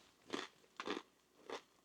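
Someone crunching on dry Russian bunker ration crackers: three close, crisp bites about half a second apart, quiet and alone with no talking.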